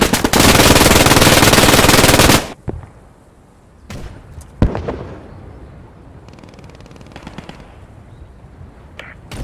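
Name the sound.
gunfire in the video game Squad 44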